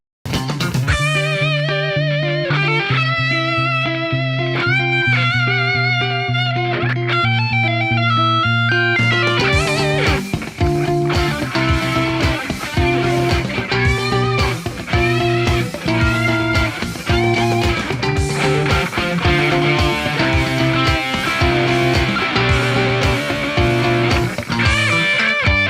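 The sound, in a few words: electric guitar played with distortion in a guitar battle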